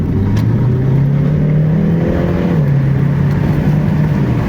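Hyundai car accelerating on the road, a steady engine drone whose pitch rises, dips slightly and climbs again as it pulls, loud and close throughout with no talking.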